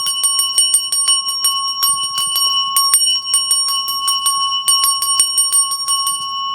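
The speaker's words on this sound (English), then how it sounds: "all I'm going to do is use my bell to clean the area" A small handheld bell rings over and over for sound cleansing, a rapid and bright ringing that is loud and close, with brief pauses between the bursts of shaking.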